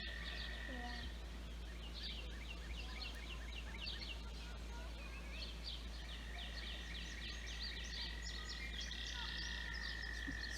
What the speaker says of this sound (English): Especially with all the frogs talking.